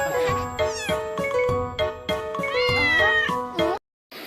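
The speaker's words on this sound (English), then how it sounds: "C for cat, C for cat." Several clear, close cat meows set into a bouncy children's phonics song, rising and falling over the music before it cuts off.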